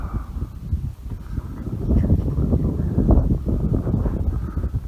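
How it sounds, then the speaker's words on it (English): Strong wind buffets the microphone on open Wyoming prairie during an antelope hunt, a constant low rumbling roar with gusty swells and no clear voices. "If I could get the wind to stop for just a second"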